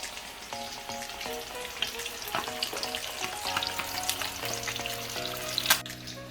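Battered chicken pieces fry in hot oil, about four at a time, for a Doritos fried chicken dish. A steady, crackling sizzle runs throughout with occasional clinks of utensils nearby, and nobody speaks.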